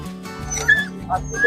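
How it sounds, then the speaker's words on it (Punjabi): Small husky puppies whimper and yip in short, high-pitched cries, close by, with a person talking over them, at the Maghi fair. "ਆ ਵੀ ਹਸਕੀ ਦੇ ਬੱਚੇ ਦੇਖੋ"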